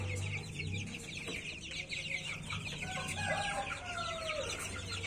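Young chickens of an Antique bloodline packed in a fruit basket for shipping, clucking and peeping steadily with overlapping calls and some faint rooster-like cries against a constant background hum.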